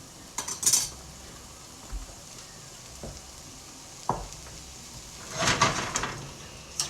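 Cutlery and dishes clink and scrape while garlic ramen stir fry is plated in a home kitchen, with a few sharp utensil taps spaced apart, a soft sizzle underneath, and a louder clatter near the end.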